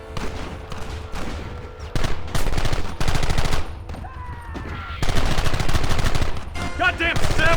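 Rapid bursts of gunfire from the video game Red Dead Redemption crackle loudly in repeated volleys, with machine-gun-like rattles and overlapping shots throughout, under occasional shouted voices.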